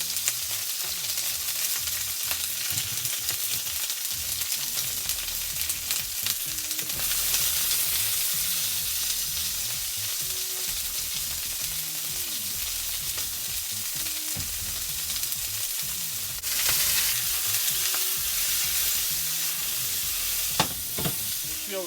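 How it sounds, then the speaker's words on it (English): Poblano and red peppers fry in canola oil in a hot pan, giving a loud, steady sizzle, with occasional stirring scrapes and no talking. "More canola oil, and in goes my peppers."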